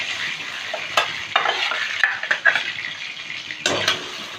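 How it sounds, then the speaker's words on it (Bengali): Pieces of boal fish fry in hot oil in a covered pan with a steady crackling sizzle. Metallic scrapes and clinks of a utensil against the pan cut through at intervals. "এইভাবে ঢাকা দিয়ে দিয়ে সব মাছ ভেজে নিলাম"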